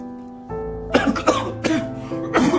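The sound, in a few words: person coughing with a cold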